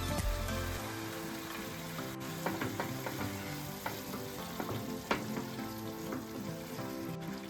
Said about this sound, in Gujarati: પાણી એડ કર્યું છે ને તો આપણે એક સેકન્ડ માટે જ આપણે કૂક થવા દઈશું ચટણીને